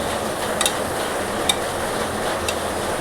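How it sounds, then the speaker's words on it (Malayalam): Onion and green chili stirred in coconut oil inside a cooker, giving a steady close sizzle with a few light clicks of the spoon against the pot and no voices. "എന്നിട്ട് നന്നായിട്ടൊന്ന് ഇളക്കി മിക്സ് ചെയ്യുക"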